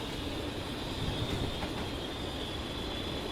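Steady train engine drone with rolling wheel noise in Train Simulator, a continuous even rumble carrying a faint high whine, no voices.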